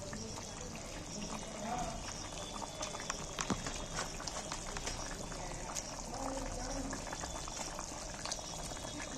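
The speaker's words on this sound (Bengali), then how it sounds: "এইবার আমি মাছগুলো এক এক করে তুলে দিচ্ছি" Fish pieces go one by one into a simmering fish curry, bubbling and popping steadily with small splashes and liquid sounds throughout, close and fairly quiet.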